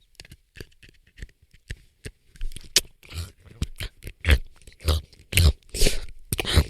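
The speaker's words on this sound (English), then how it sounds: "Yeah, I'm gonna crunch into it." A grape Jolly Rancher hard candy being crunched between the teeth, starting with sparse small cracks and building into loud, close, irregular crunching bursts over several seconds.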